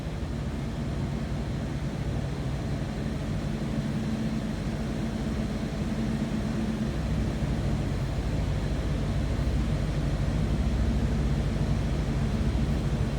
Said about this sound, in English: Sounds like a stock 4-liter.